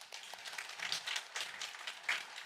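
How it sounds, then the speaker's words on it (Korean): A church audience claps in a brief burst of applause, a dense, fairly quiet patter of hands heard from a distance, with no voices over it. "박수 한번 주세요."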